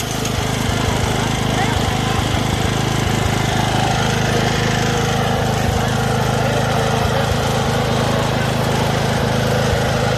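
A four-stroke gasoline snow blower engine runs loud and steady as it shreds chicken manure, with a constant rough drone and rattling throughout.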